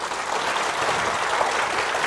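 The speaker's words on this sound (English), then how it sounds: "please give another warm round of applause for Sarah." Steady, dense applause from a conference audience at a PHP developer event, a continuous wash of clapping throughout with no pauses.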